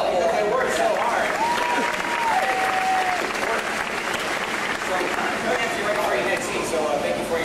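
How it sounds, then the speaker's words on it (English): A theater audience at the MGM Studios stunt show in Florida gives the stunt crew a big, steady round of applause, with scattered cheers and voices mixed into the dense clapping throughout. "why don't we give the crew a nice big round of applause?"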